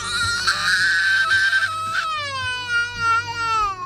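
An infant boy at a doctor's office screams and cries before getting a shot: loud, sustained high-pitched wails that break into a brief gasp, then resume as long rising and falling sobbing cries, close to the listener.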